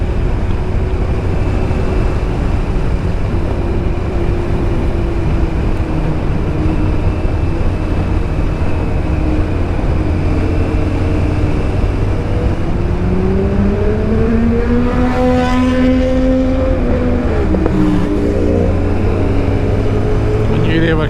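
Motorcycles overtaking on the road, heard from a Kawasaki ZZR1100 riding along under steady wind and engine roar; rising and falling engine tones sweep past near the end, loud and close.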